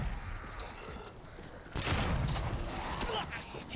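Dense, rapid gunfire in the zombie game Dead Island 2, a weapon spraying a huge burst of bullets at once; a quieter stretch gives way to a sudden loud, sustained roar of shots that carries on to the end.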